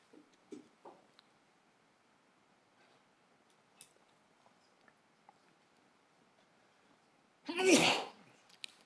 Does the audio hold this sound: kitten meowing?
no